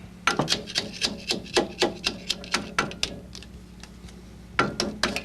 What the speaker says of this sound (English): So you're always hammering in one place.